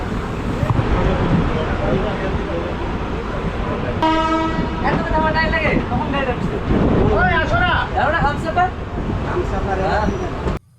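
The Sealdah–NJP Humsafar Express rolls along with a continuous rumble and clatter of wheels on rails, and a loud train horn blares for several seconds midway; a voice is heard briefly over the noise.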